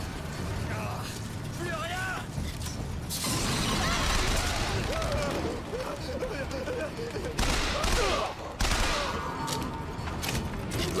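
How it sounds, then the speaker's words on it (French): Gunfire and clanking mechanisms fill a BioShock Infinite firefight in Columbia: dense, loud bursts of shots and metallic rattles run throughout, with game voices in the mix. "Qui me tire dessus?"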